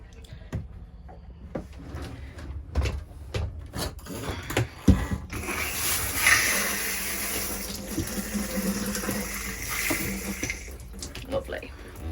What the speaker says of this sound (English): it will take a minute or so to get the water to come through, certainly on the hot side